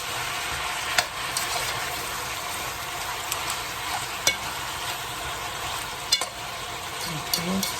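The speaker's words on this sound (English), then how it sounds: "You just turn it around. Keep on stirring it up." Curry goat meat fries in a pot under a broad, steady sizzle, punctuated every few seconds by sharp clicks of a spoon knocking against the pot as it gets stirred.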